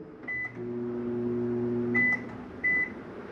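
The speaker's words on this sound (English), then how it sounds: "microwave." A microwave oven in a 2024 Jayflight SLX 262RLS travel trailer hums steadily while running, punctuated by three short high beeps, one early and two near the end.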